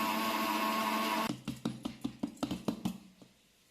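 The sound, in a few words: mixer grinder grinding roasted black gram into powder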